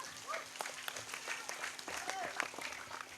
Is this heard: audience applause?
yes